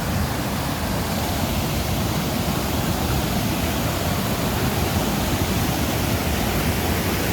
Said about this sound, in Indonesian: Itu sungainya.